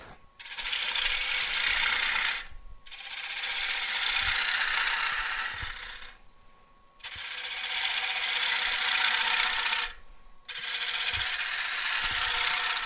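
Wood lathe turning a bowl with a cutting tool, a loud rasping hiss in long sustained passes broken by short pauses, four cuts in a row with no talking.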